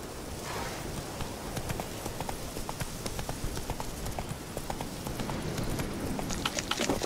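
Roach, the horse in The Witcher 3 on PS4, gallops along in a rapid, rhythmic clip-clop of hooves that runs unbroken and moderately loud from start to finish.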